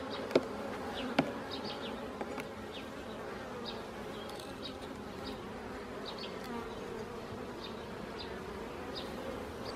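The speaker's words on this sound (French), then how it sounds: "Ici, on va un peu brosser les abeilles." Steady hum of honeybees buzzing close by around hive frames as they are brushed off, continuous and dense, with a couple of sharp clicks or knocks near the start.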